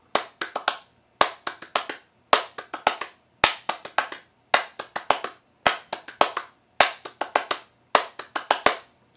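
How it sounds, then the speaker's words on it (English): Bare hands clapping the stop-start rhythm of a song, close and crisp, with repeating bursts of quick claps separated by short gaps, slightly uneven in timing. "If I sort of clap the rhythm here"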